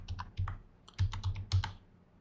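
Keys clack on a computer keyboard in a few quick bursts, close and crisp, with brief pauses between clusters of taps and no voices.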